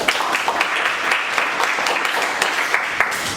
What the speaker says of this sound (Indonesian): Sekali lagi tepuk tangan untuk kelompok kita masing-masing.